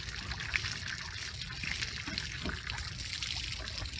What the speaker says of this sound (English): agitating that water that's in the bottom and letting that debris flow out of there